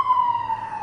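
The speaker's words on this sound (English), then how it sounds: "Oh, police car's coming." A police car siren wails on a city street as a steady, slowly falling tone, loud and close over low traffic rumble.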